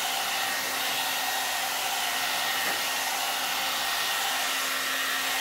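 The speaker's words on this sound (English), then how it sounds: "I have to wash it and I have to blow dry it." A hair dryer blows steadily on wavy hair, a continuous loud whooshing hum that holds an even level throughout with no voices.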